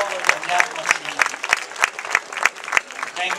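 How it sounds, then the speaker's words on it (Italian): A crowd claps for an orchestra at an outdoor votive festival, rhythmic unison hand claps in a steady beat, with speech mixed underneath. "vorrei salutare l'orchestra Minale con un grande applauso"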